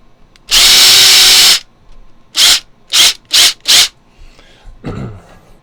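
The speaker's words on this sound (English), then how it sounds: "I'm just going to quickly ream these all out to make sure they are to" A power drill with a 3/16 bit reams holes in leather: one long steady whir, then four short even bursts in quick succession, loud and close with no talking.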